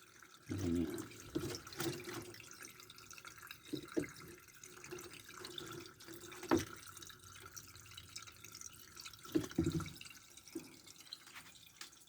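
Water draining from a clogged Sanken twin-tub washing machine, trickling and dripping with intermittent splashes and knocks, fairly close and moderate in level.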